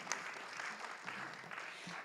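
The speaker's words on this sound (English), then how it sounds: "Give a little bit of applause for Rob and Shelley who are joining us today." A seated audience at a public art talk claps steadily, a dense and even patter of applause that holds for about two seconds before tapering slightly.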